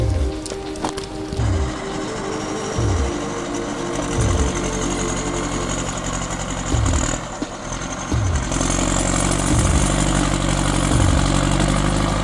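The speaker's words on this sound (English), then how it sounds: "Here, the LKT-81 takes on another challenge, not just collecting logs, but transporting them down a forest road." An LKT-81 forestry skidder's diesel engine runs steadily while hauling logs down a forest road, a continuous mechanical drone with rhythmic low thumps and a rise in intensity toward the end, heard up close with no talk.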